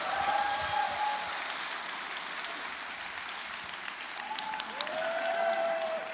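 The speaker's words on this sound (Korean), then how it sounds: "노래해 주신 부주임 신부님께 감사의 박수 한번" An audience at a Lenten lecture in a church gives a sustained round of applause in thanks to an assistant priest who sang. The clapping is dense and even, with faint high tones running faintly through it.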